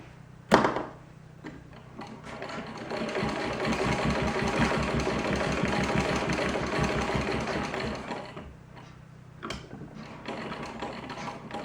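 A Singer 15-88 treadle sewing machine on a custom commercial table runs in a steady rapid stitching chatter for about seven seconds, starting after a sharp clunk and ending with a quieter click.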